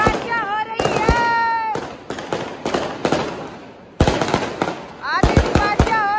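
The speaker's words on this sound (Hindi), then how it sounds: "आतिशबाजियां हो रही है" Diwali fireworks and firecrackers burst repeatedly around a residential building, sharp cracks and booms in irregular clusters with whistling rockets rising between them, loud and close, while people talk excitedly in between.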